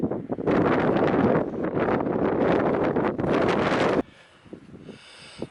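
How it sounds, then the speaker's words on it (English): Strong wind buffeting the microphone on the hilltop of Llandegley Rocks in Mid Wales, a loud roaring rush with gusts for about four seconds before it drops suddenly to a much quieter breeze. "Kind of hear the wind now."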